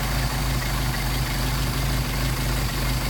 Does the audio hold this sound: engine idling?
yes